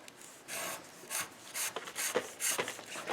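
Hand-held 320-grit sandpaper rubs a crankshaft journal in rhythmic back-and-forth strokes, a close, soft scratchy swishing repeated about six times in three seconds.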